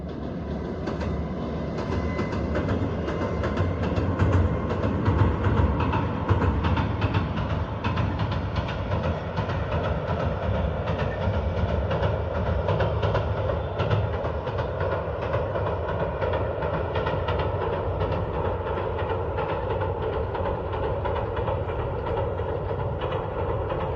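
A local passenger train rolls along the Kumano River after a typhoon, with a steady rumble and rattle of wagons, faint rhythmic wheel clicks and no voices, heard continuously for the whole span.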